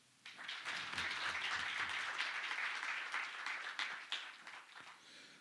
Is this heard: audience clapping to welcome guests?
yes